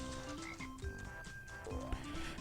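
A cartoon frog in a swamp-themed video game croaks in short bouncing blips over busy, tuneful game music and chiming sound effects, all at a soft level.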